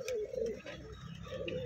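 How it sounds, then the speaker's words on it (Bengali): A pigeon coos close by in a loft in Rajshahi, giving a few soft, throaty rolling calls in quick succession with quiet rustling underneath. "এই কবুতর নিচে বাজি করছে"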